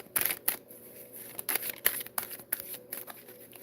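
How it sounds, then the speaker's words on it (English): Tarot cards shuffled by hand to draw an advice card, giving a quick run of papery riffling bursts with short pauses between them, close and fairly soft, with no talking. "I'm gonna throw a quick advice card for the Tauruses"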